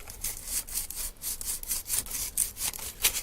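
Rapid rhythmic scraping as the spine of a Morakniv Basic 511 knife is worked across sandpaper to smooth it, with close, even strokes repeating several times a second and no voices.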